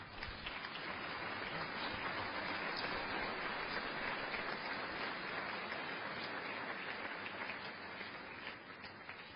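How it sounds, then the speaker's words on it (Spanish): A church congregation applauds, dense sustained clapping filling the whole stretch at an even, strong level, with no speech over it. "Den un aplauso al Eterno."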